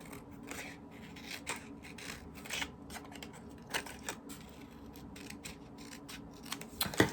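Scissors snip along the edge of a 3D paper frame, a quiet close run of small repeated cuts and rustles with no talk.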